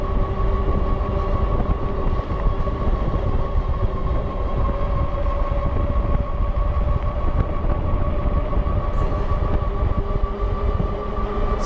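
Himiway Escape fat tire e-bike riding on throttle only on level ground at about 24 to 25 mph, a loud steady roar of wind and tire noise with a constant motor whine throughout.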